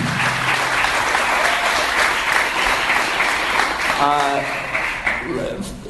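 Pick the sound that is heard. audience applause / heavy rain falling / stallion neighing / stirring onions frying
audience applause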